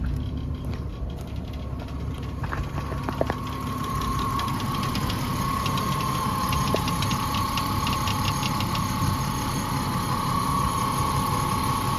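A 2005 Ford Mustang with a 4.0 V6 idles steadily while warming up, a continuous close engine drone with a faint tick and a high whine running throughout, and no voices.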